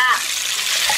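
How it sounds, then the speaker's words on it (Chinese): Edamame stir-fried in a wok with chili sauce, oyster sauce, sugar and chili peppers, a brief close burst of hissing sizzle and stirring. "翻炒一下"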